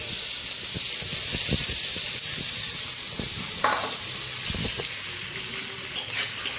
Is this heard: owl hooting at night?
no